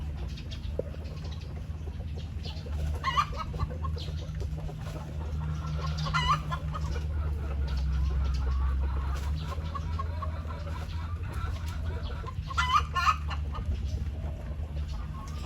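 A laying hen clucks repeatedly nearby in short bursts, with soft farmyard background noise and a low rumble throughout.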